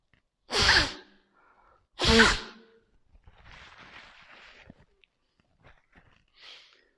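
Two forceful nasal exhalations, sharp and loud like sneezes, during kapalabhati breathing in a home yoga class, followed by softer breathy rustling and a faint final puff.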